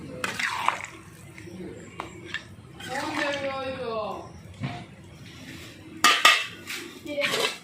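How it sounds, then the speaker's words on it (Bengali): Potatoes are stirred into a watery young goat mutton curry in a pot, with scattered metallic clinks and scrapes of a spoon against the pot and a loud clatter near the end, under a person talking. "জল দিয়ে দিয়েছি এবার আলুগুলো দিয়ে দিচ্ছি দিয়ে একটু নাড়াচাড়া করে নিলাম"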